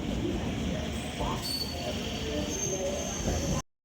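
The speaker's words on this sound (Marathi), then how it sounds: "ही ट्रेन आली, आता याच्यामध्ये बसतो," A local train at Borivali station fills the scene with a steady, loud rumble of wheels and carriages, with faint squealing on top, lasting until an abrupt cutoff.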